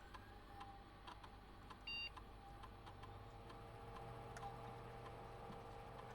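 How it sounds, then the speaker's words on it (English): A faint electronic timer beeps briefly once in the video game Blue Prince, over quiet ticking and low background hum. "I could hear a timer going off there."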